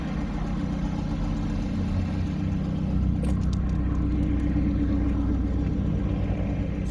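A Ford Capri Laser idles with a steady low rumble, holding an even drone throughout, with a few faint clicks and rattles near the middle.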